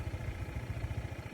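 A motorcycle engine runs at steady low revs along a winding, sharply curving mountain road, its pulsing low chug continuous and close throughout.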